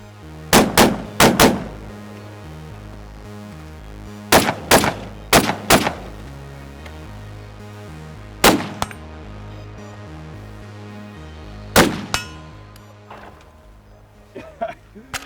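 Rifle shots from an M14 Scout fitted with an aggressive Springfield Armory muzzle brake, fired one at a time in small groups. Loud, sharp cracks ring out at irregular intervals, with short gaps and a fainter knock near the end.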